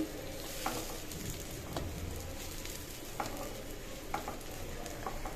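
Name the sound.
sweet pumpkin pieces frying in oil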